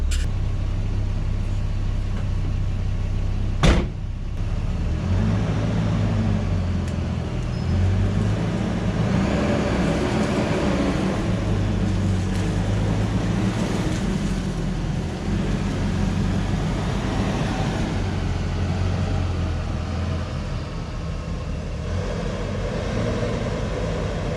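A Toyota RA40 car engine idles steadily just below 1000 RPM with a low, constant rumble, broken early by a single sharp click.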